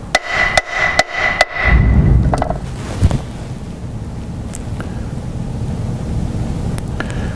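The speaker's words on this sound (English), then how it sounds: "I'm going to take my hammer." Several sharp metallic taps in a quick series, a hammer knocking on the engine of a 1999 Toyota 4Runner 3.4L, followed by a steady loud rumbling hum that continues throughout.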